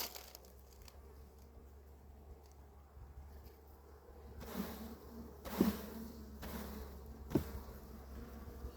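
Honeybees buzz softly and steadily close by at a hive, with a few louder passes and brief rustling knocks, no speech.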